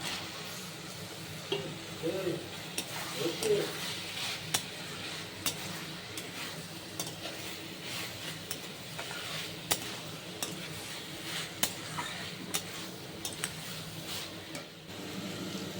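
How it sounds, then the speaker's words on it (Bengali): Soybean chunks frying and being stirred in a pan with onion, garlic and cooked-down spices, a steady low sizzle broken by scattered scraping clicks of the spatula, close by, with no talking. "মশলা কষা হয়ে গেছে, এবার আমি সোয়াবিনটা দিয়ে দিই"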